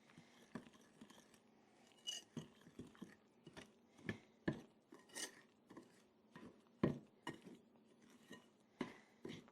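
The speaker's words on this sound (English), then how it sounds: "now I'm just gonna use the Danish dough whisk to get this well combined" A Danish dough whisk scrapes and knocks through sticky Kamut bread dough in a bowl, irregular close strokes with soft clinks and rasping drags, fairly quiet and with no voice.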